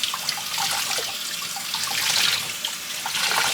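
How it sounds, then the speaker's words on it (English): Tap water runs steadily over tie-dyed shorts, rinsing blue dye out in a sink; a continuous close splashing flow with slight swells and no talk. "I'm just going to go ahead and start to rinse out all the blue."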